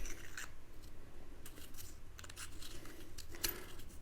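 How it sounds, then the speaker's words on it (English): Turret adjustment clicks on a CVLIFE JackalHowl 3-9x40 AO budget rifle scope come as a handful of small, crisp ticks over faint background hiss, with one sharper click near the end. "You can hear and feel each one of those adjustments."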